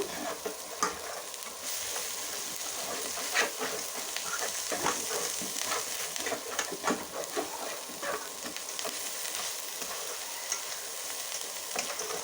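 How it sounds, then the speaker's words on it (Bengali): Turmeric and coriander masala sautéing in a pan for palak paneer, a steady close hiss of frying with frequent scraping stirs and light clinks throughout, no voices. "1 টিস্পুন ধনিয়া গুঁড়া দিয়ে মশলাটাকে ভালো করে আবারও কষিয়ে নেব"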